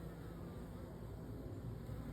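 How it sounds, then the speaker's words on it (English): Honeybees fly in and out of a bucket swarm trap outdoors, making a faint, continuous buzzing hum with no talking. "them bees are just coming in and out, in and out."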